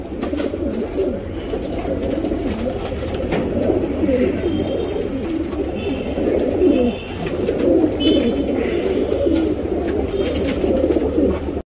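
A male pigeon coos continuously, close and fairly loud, with soft rolling repeated calls over a steady background hum.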